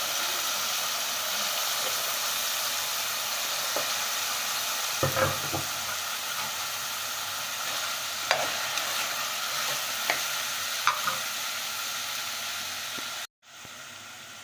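Cauliflower pieces, tomato and onions fry steadily in a pan, giving a continuous sizzle broken by a few clinks and scrapes from stirring, then a brief drop near the end.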